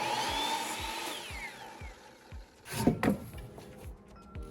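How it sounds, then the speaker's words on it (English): A power saw cuts the edge off a wooden board for a crawl space louver vent cover, a whining motor with regular thumping pulses, then a louder burst of cutting noise before it winds down, close and alone. "Then I cut the edges off because I have to have a straight border at the bottom."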